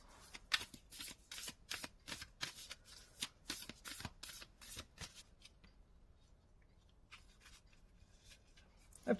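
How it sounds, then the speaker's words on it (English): A Seashell Oracle card deck is shuffled by hand in quick, crisp riffling bursts close by, a rapid run of snaps that slows and fades into quiet handling, with no talk over it. "Give it a bit of shuffle."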